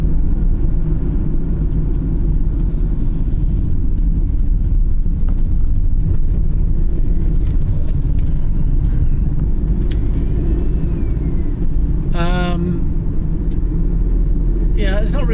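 Steady loud road rumble from a car cruising along a road on the drive home, continuous engine and tyre noise throughout with a brief whine near the end.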